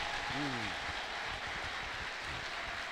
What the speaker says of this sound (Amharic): ከፍ ያለ ለልታ ጭብጨባ ስጥ እስቲ አንድ ጊዜ